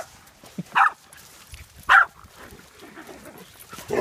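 Large shepherd dogs in a mixed group on a morning walk give two loud, sharp barks about a second apart, with a short yip just before them and faint movement noise between.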